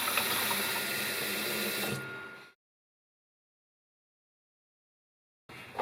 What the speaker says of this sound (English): Fill up with cold water up to the 2-liter mark.